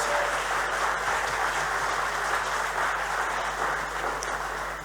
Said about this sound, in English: a round of applause for coping short-handed